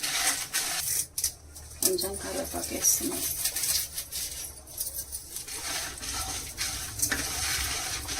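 Dried red chillies frying in hot oil for a stuffed capsicum masala curry, soft crackling sizzle and occasional stirring clinks beneath someone talking.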